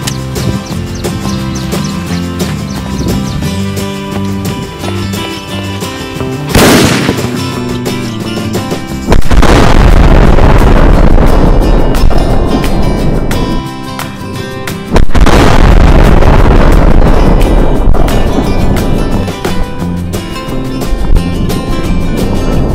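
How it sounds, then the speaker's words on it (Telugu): A sutli bomb firecracker stuffed inside a cabbage explodes outdoors with a sharp, loud blast, followed by a second heavy burst a few seconds later, both ringing over steady background noise. "ఏ విధంగా పేలింది చూశారు కదా, ఏ విధంగా బ్లాస్ట్ అయిందో కూడా."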